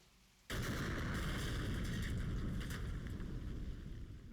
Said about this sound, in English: I don't know why that explosion was in there, honestly.